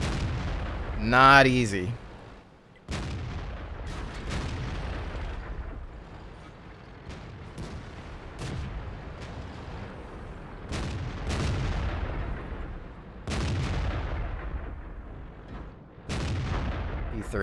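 Tank cannon fire in World of Tanks, a series of heavy booming shots spaced every couple of seconds across a battle, with someone commenting over the blasts.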